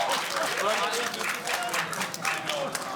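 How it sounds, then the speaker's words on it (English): A crowd at a video game trivia show claps and applauds continuously, a dense, lively patter with voices mixed in underneath. "That deserves a round of applause."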